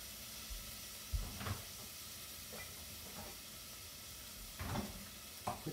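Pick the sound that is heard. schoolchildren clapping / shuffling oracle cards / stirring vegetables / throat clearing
stirring vegetables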